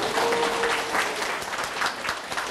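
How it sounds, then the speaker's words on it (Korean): Audience applause at an education lecture in Daegu, a short steady burst of clapping filling the room at even loudness, with a brief tonal hum near the start. "박수해요."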